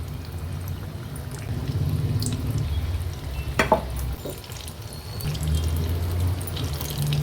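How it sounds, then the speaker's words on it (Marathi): Jackfruit pakoda fritters dropped one at a time into hot oil over a medium flame: a low, steady bubbling sizzle with a few sharp splashes and clicks as the pieces go in. "एक एक करून भजी मी ह्याच्यात सोडते"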